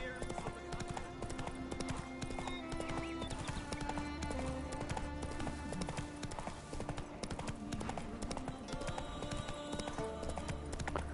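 Roach the horse gallops in Witcher 3 with a steady, rapid clip-clop of hooves, close and continuous over a game soundtrack, with a brief whinny-like tone woven in.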